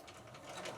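Domestic sewing machine running a short steady burst, stitching two layers of fabric together for a piped cushion; a close, continuous whirring hum with no voices.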